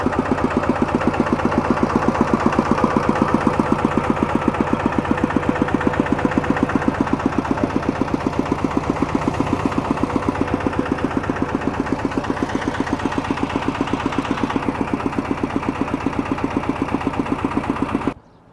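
A vehicle engine idles smoothly and evenly nearby, its rapid regular pulsing holding steady for the whole stretch before cutting off abruptly at the end, with no talking.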